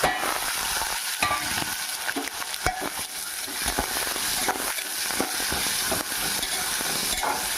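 Tomato pieces fry in oil in a pan for a restaurant-style mushroom masala curry, with a loud steady sizzle and repeated close scraping stirs throughout and no talk.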